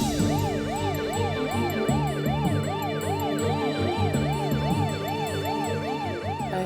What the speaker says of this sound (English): The ambulance finally came.